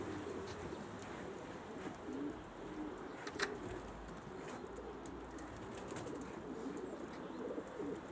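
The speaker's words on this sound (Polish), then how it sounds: "Siedzą na daszku. I tak przy blotach gruchają." Pigeons perched on a roof, soft low cooing that repeats faintly through the scene over a quiet outdoor background, with one brief sharp knock midway and no talk.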